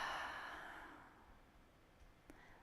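A single long, breathy exhale fades out slowly during a stretching posture workout, quiet and close with no talking.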